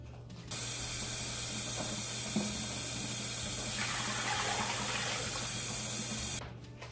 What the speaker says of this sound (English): And then I'm going to fill it up and cover it with water.